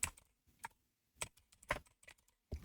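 Typing on a computer keyboard in a quiet room: scattered single key taps and short bursts spaced irregularly, close and fairly faint, with no talking.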